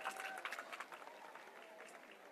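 An audience at a religious discourse gathering claps in a dense, continuous patter that sounds faint and distant, gradually tapering off toward the end.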